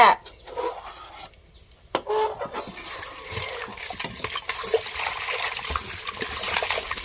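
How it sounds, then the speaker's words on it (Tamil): Water splashes and trickles as dried anchovies are rinsed by hand, with hens clucking in the background and occasional clatter. "கருவாட்டை தண்ணியில் போட்டு கழுவிக்கலாம்."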